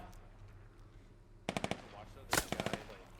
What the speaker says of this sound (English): Oof, the bullet ricochets. The actual sound is just crazy.